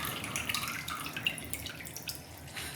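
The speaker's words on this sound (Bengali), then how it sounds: "দেখুন একদম আমি জলটাকে পরিষ্কার করে ফেলে দিচ্ছি।" Water drips and trickles faintly as it is drained off soaked flattened rice (chira), with scattered small splashes and drops close by.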